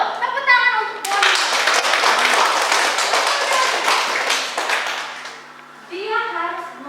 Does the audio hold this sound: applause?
yes